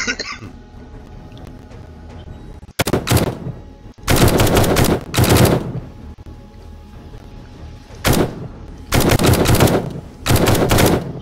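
Gunfire in the zombie survival game 7 Days to Die during a horde night, loud bursts of automatic fire in several sharp clusters separated by quieter gaps, with no talking over the shots.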